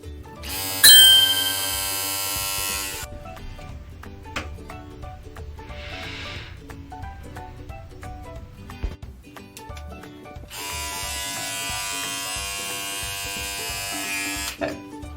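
An electric shaver buzzes loudly in two long stretches as it takes a head down to bald, with a quieter gap between them filled by softer handling sounds and brief music-like tones.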